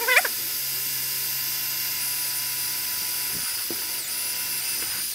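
A small 3/32 inch bit drills a hole in a model railway layout, giving a steady high whine with a brief start-up surge, running continuously and close.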